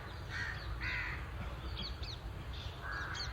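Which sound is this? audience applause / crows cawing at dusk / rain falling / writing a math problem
crows cawing at dusk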